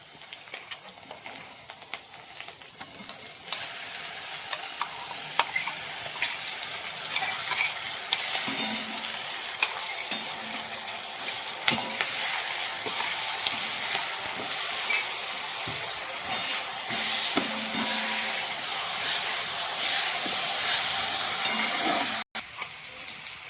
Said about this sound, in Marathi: कांदा भाजत आलाय तर टोमॅटोची प्युरी टाकायची